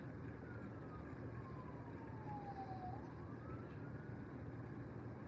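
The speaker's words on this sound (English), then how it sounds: "And it's ambulance." A distant ambulance siren wails steadily, its pitch sliding downward and then back up as it passes, under a constant roar of traffic.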